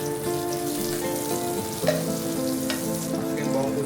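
Butter melts and sizzles in a pan for a Nasi Pringit Koja dish, with a steady close frying hiss, soft crackles and a few light stirring clinks throughout.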